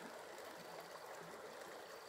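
Nhiem stream in Sủng Trái, Đồng Văn, Hà Giang, a wild mountain stream with a hot and a cold channel, flows steadily, a dense, even rushing of water close by with no voices.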